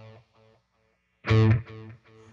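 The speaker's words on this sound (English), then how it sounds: "Right now, I have delay on right there." Electric guitar with tape echo delay on a Boss Katana amp: a few soft plucked notes, then a louder distorted stab whose repeats fade out in a trailing series of echoes.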